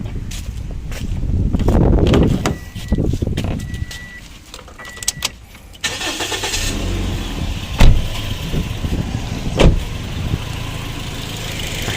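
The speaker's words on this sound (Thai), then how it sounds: "ฟังเสียงเครื่องยนต์นะครับ เครื่องยนต์เดินเรียบนะครับ" A few clicks and shuffling sounds, then the engine of a 2007 Toyota Vios with automatic transmission cranks and starts midway and settles into a steady, even idle close by.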